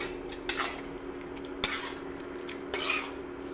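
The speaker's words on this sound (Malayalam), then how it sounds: "നല്ലതുപോലെ ഇളക്കി യോജിപ്പിച്ച് കൊടുക്കാം" A spoon clinks and scrapes against a pot while stirring a traditional chicken curry with three added eggs, a few soft knocks over a steady low hum.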